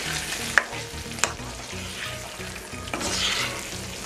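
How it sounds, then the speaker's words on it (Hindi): Curd fish masala (dahi machhi) with garam masala and fresh coriander is stirred gently in a frying pan, a steady close sizzle broken by a few sharp scraping clicks of the spoon, with no talking. "एक बार बिल्कुल हल्के से इसे करेंगे मिक्स।"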